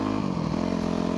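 Motorcycle engine running steadily while riding, a continuous low droning hum with harmonic buzz and no clear revs, close and fairly loud throughout.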